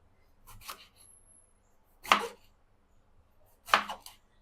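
A knife chops through a hard, stale eggplant on a board, three separate dull thuds spaced about a second and a half apart, close and clear against near silence.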